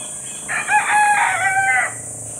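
A white Texas gamecock crows once outdoors in the countryside, a single drawn-out cock-a-doodle-doo lasting over a second, loud and fairly close over a faint steady background hiss.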